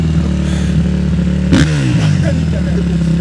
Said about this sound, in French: elle fait beaucoup de bruit la moto